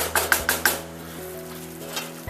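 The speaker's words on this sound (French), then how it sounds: "On brasse bien pour que toutes les épices soient répandues dans la garniture." Spoon stirring a traditional Québécois tourtière meat filling in a pot, a few quick scraping strokes near the start over a steady low simmering sizzle that continues to the end.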